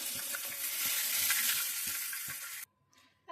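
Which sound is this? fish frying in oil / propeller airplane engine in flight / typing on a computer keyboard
fish frying in oil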